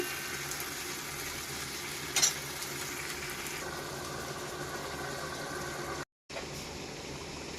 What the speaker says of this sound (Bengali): দেখুন চিকেনটা এইভাবে নাড়তে থাকুন।